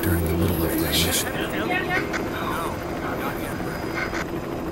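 A helicopter flies over a forest in the video game Resident Evil HD Remaster, a steady rotor drone held throughout under a narrator's voice, with brief game sound effects layered in.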